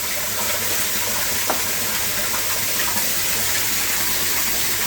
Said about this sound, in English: I've got the water spraying in.